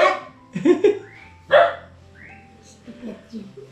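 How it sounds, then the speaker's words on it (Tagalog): A dog barks a few times close by, short sharp yelps in bursts, mixed with a person's voice talking and hushing. "Ingay ng aso eh."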